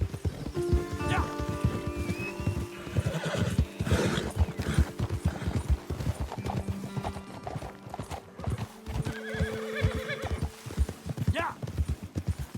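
Horses in Red Dead Redemption 2 clip-clop along at a steady walking rhythm, with a few whinnies and neighs rising over the hoofbeats, close and fairly loud.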